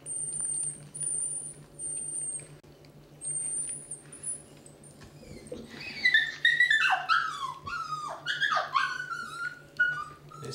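Eighteen-day-old Basset Hound puppies at their first feeding of mushy dog food, with high thin whimpers and squeaky yips starting midway, close and overlapping over a low steady hum.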